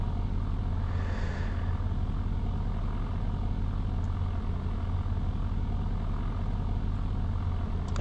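Single-engine Cessna 150 in the FlightGear flight simulator on a steep takeoff, its engine a steady, loud, low drone that holds constant throughout with no talk over it.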